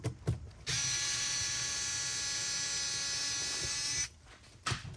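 A powered screwdriver or drill whirs steadily for about three and a half seconds, loud and close, while removing screws from the fuser guide of a Xerox 78xx printer. Brief clicks and handling noises come before and after.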